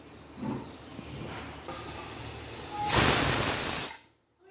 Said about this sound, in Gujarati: હવે આવી રીતે સહેજ હવા કાઢીને કુકર ખોલ્યું.